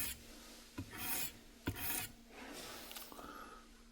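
Knife blade drawn across the abrasive of a Work Sharp Professional Precision Adjust sharpener, working the burr from side to side: a few soft rasping strokes with sharp clicks between them, close and fairly quiet, no voice.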